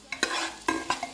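A spoonful of coriander seeds drops into hot oil for tomato rice, producing a short close burst of crackling sizzle with a few sharp pops and stirring scrapes.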